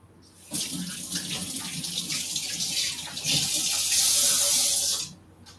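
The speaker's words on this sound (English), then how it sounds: "rinse my hands" Tap water runs steadily into a sink as hands are rinsed, a continuous close hiss that starts abruptly, swells slightly louder near the end, then cuts off, with no talking.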